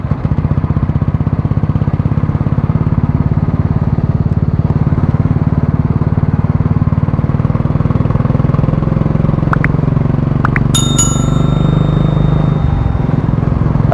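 A Royal Enfield Classic 350 motorcycle fitted with an HK Indori aftermarket exhaust thumps steadily at close range, its loud, even low-pitched beat running throughout. A brief higher whine and electronic beep sound near the end.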